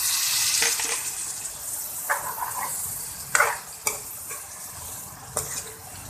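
Masala for karela sizzles in a pan after a splash of water, with a steady frying hiss broken by several sharp scraping stirs of a spoon, close and clear with no talk.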